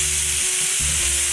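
Garlic sautés in a pan beside a steak, giving a loud, dense, continuous sizzle with a faint low hum underneath.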